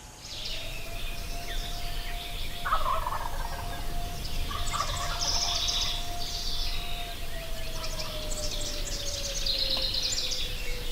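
Merriam's wild turkeys gobble repeatedly from a distance in open country on public land, a few loud bursts rising over steady outdoor ambience with a faint background tone.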